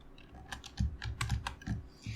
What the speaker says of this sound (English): type in logo